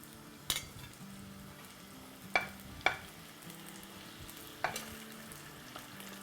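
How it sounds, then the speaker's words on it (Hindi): French fries being refried in oil for masala fries, a quiet steady bubbling fry punctuated by a few sharp utensil clinks against the pan, with a low hum underneath and no voices. "जब तक हम अपनी फ्राइज़ को रीफ्राई करेंगे"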